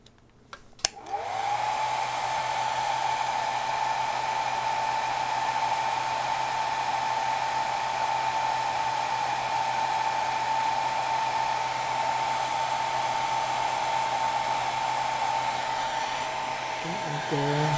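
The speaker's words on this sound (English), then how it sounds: "Let me get my blow dryer and blow dry these real quick." A handheld blow dryer clicks on and runs at a steady, loud whooshing hum while drying wet paint on a wooden board, close and unbroken for the whole stretch before switching off at the end.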